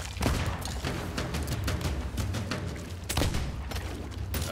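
Skeletons firing guns in the pirate game Sea of Thieves, with dense, loud bursts of gunfire and booms overlapping continuously, with no talk over them.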